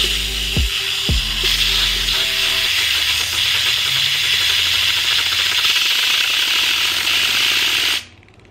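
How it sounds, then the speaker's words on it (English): An air compressor blows a continuous loud hiss of air onto a fidget spinner, with a few low tonal blips at the start, before cutting off abruptly near the end. "I'm going to give it a little test run with the air compressor, but not on high."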